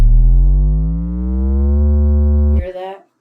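A steady synthesizer tone in Soundtrap with rich harmonics slowly glides upward in pitch, then cuts off abruptly with a brief noisy burst.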